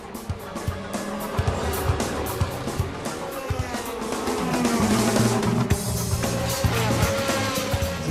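Race cars roaring off at the start of a race, several engines revving and whining together with tire noise, loud and continuous, the sound swelling midway as the pack accelerates.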